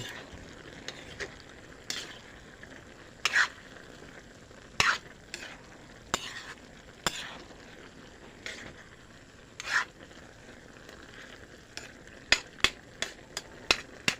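A sauté of bottle gourd and jute leaves being stirred in a pan, with sharp intermittent scraping strokes of a spatula over a soft, steady sizzle.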